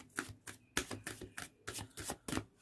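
Tarot cards are shuffled quietly, with about nine short, evenly spaced papery slaps and riffles in quick rhythm, close and soft with no talking.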